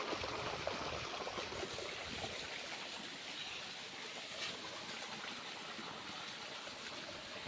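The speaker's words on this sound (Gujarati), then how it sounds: "બપા પાણી છાંટે છે જો" Water sprinkled over plants and trees in a village garden, a steady broadband hiss and patter like a running stream, continuous and fairly close with no talking.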